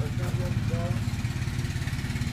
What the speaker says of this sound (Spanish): Arranca la moto y nos vamos.